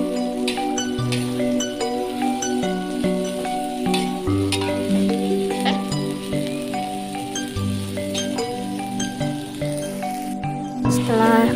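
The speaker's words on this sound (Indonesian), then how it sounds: "Setelah cabenya layu, kita masukkan cambahnya ya Bunda. Kita oseng-oseng lagi sampai cambahnya agak layu." Bean sprouts and chili stir-fried in a pan, a continuous close sizzle with scraping stirs, heard under steady background music.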